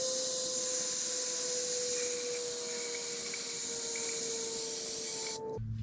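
A suction device steadily draws old brake fluid from a Mazda Miata brake reservoir, giving a loud continuous hissing suction that runs unbroken for several seconds before cutting off abruptly near the end.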